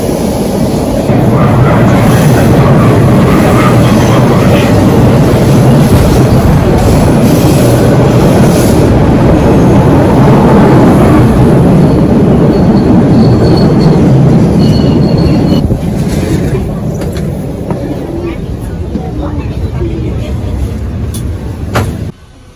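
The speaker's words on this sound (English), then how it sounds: "The train is coming." A train pulls into a station with loud, steady rumbling and squealing wheels. The roar holds strong for about fifteen seconds and then eases as the train slows, with people talking faintly underneath.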